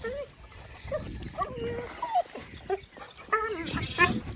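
Puppies on a farm whimper and yip in high, wavering cries, with a few short barks breaking in, close by and overlapping one another.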